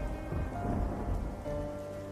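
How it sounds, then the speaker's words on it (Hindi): Steady rain with low rumbling thunder, a dense wash of falling drops under a deep rolling rumble, faint and continuous throughout, with no voices. "ये बारिश का सिलसिला यूं ही कुछ दिन तक जारी रहता है।"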